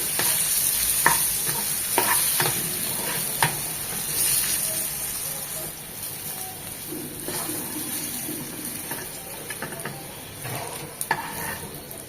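Large potato pieces frying in hot oil for a rui fish and bean curry, a steady close sizzle with occasional stirring scrapes and clinks of the pan, no voices.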